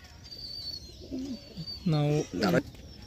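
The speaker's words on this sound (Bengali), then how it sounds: "এটা হচ্ছে কালদুম তাই তো কালদুম পায়রা" A Kaldum pigeon coos in two short, throaty bursts near the microphone, with faint chirps and quiet ambient noise around them.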